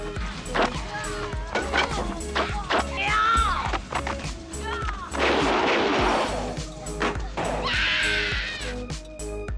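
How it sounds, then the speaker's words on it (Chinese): Gunfire in a violent film scene: several sharp shots crack out irregularly over a dense, loud soundtrack with screams and dramatic noise, while a voice narrates over the top. "条件反射直接开枪杀死了警察"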